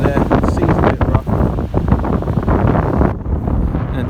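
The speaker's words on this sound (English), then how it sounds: "It's a bit windy." Strong wind at Normans Bay beach in East Sussex beside a rough sea, buffeting the microphone loudly in continuous gusts with surf rumble beneath.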